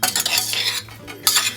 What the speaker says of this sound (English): let's give that a quick stir and get that lid back on